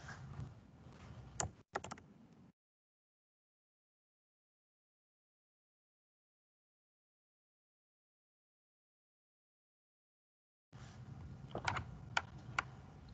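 Typing on a computer keyboard, close and fairly quiet: a run of soft key clicks, a long silent gap, then another burst of keystrokes.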